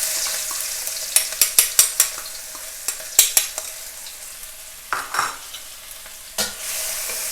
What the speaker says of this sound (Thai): ผัดให้หอมก่อนนะคะ